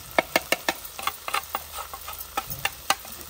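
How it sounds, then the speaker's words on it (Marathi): Ground spices, turmeric, coriander, red chilli powder and onion-garlic masala, are sautéed in a pan, with a spatula tapping and scraping the pan in a quick irregular rhythm over a faint sizzle. "हे चांगल्या प्रकारे परतून घ्यायचे."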